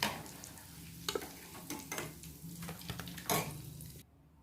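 Susiyam sweets fry in hot oil with a soft, steady sizzle, broken by occasional clinks of a metal utensil against the pan, quiet and close.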